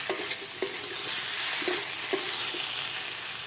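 Cucumber and mixed vegetables sizzle steadily in a pan for a Bengali shukto, with a few sharp scrapes of a spatula stirring through the hiss, close and fairly loud with no voices.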